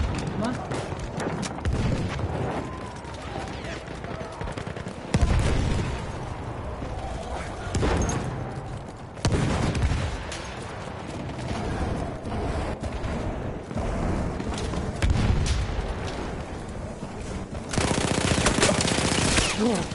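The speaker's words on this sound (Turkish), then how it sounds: "Bütün mermiyi boşalttım da vuramamışım adamı" Sustained automatic gunfire as a full magazine is emptied in the World War I shooter Battlefield 1, dense bursts and booms carrying through the whole stretch amid battlefield noise, with someone talking over it.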